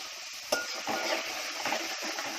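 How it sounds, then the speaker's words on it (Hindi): Okra frying in hot oil in a pan makes a steady, close sizzle, broken by a few sharp clinks and scrapes of stirring, with no talking. "इसको सिर्फ मैं 3-4 मिनट तेल में तलूंगी बस"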